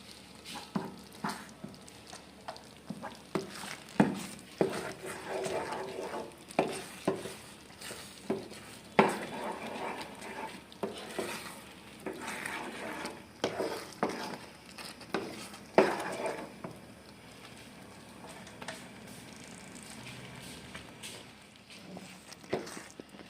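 Cooked banana with sugar is stirred in a pan, giving a long run of soft scraping and patting spoon strokes over a low sizzle, close and quiet, with occasional louder knocks and no speech.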